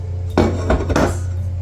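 Pumpkin spice no-bake cookie mixture is scraped out of a bowl, giving three quick utensil scrapes and clinks against the bowl over a low background hum; no one speaks.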